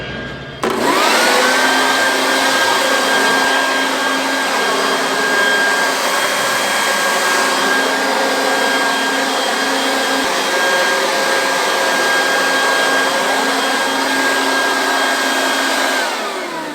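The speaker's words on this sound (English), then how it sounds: "I'm gonna climb down out of here and blow myself off with an air compressor." A steady, loud hiss of compressed air from an air compressor nozzle blowing dust off clothes after farm harvest work, starting abruptly and running continuously with a faint high whine throughout.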